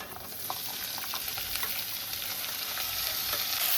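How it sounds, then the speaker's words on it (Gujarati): Washed papdi beans and potatoes fry in oil with sautéed garlic, giving a continuous close sizzle dotted with soft stirring clicks, slowly growing a little louder, with no talking. "આપણું લસણ તેલમાં સારી રીતે સંતળાઈ ગયું છે હવે આપણે આની અંદર ધોયેલું શાકભાજી નાખી દઈશું"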